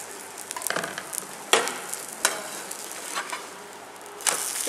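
A tomato omelette fries in oil in a pan with a constant close sizzle, broken by several sharp scraping and spatula strokes at irregular intervals, and no talking.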